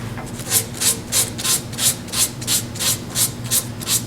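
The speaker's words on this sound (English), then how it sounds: "and sand this off. Small area, soft wood. There's the 180." A piece of soft wood on a small Christmas ornament is sanded by hand with 180 grit sandpaper, giving about a dozen steady, evenly paced rasping strokes, close and clear with no talking.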